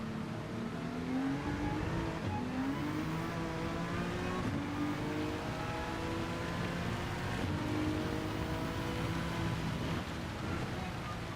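A racing video game car engine is held at about half throttle while the rear wheels lock and the car slides, giving a continuous close engine drone with layered harmonics that waver and sweep slightly in pitch.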